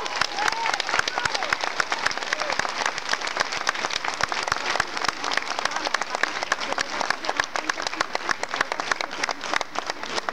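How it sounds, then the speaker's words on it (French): A crowd applauds middle-school students loudly and continuously at the Élysée Palace, dense clapping sustained throughout with no break. "Allez, on les applaudit très fort, ils vont vous saluer."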